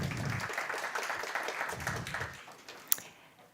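Audience applause at a deep tech evening event as an investor is introduced on stage, a dense wash of clapping that thins and fades toward the end, with one sharp tap near the close.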